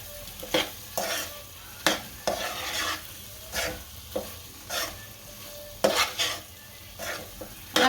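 Stuffed bitter gourds with chili, salt and spices are stirred in a sizzling pan, with a spoon scraping and knocking against the metal in repeated bursts over a steady frying hiss.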